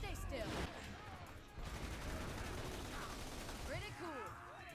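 Gunfire and explosions in Borderlands 2: a dense, loud barrage of rapid shots and blasts, with a brief lull midway before the firing resumes, alongside sweeping whooshing effects and no clear talk.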